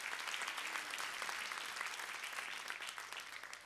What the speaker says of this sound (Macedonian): Уште еден аплауз за моите драги колеги